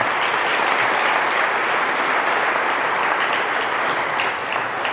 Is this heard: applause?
yes